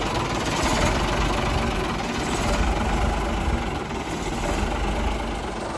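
A Rolls Royce 280 diesel idles in a 45-ton Atkinson Borderer tractor lorry, a steady loud low rumble with knocking vibration holding evenly throughout, close by and alone.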